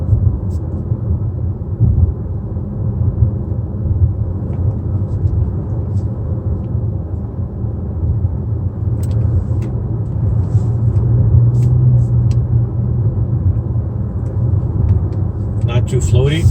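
A 2019 Mazda CX-5 takes a curve at about 70 km/h, heard from inside the cabin as a steady low road and engine rumble, with faint clicks and a few brief noises near the end.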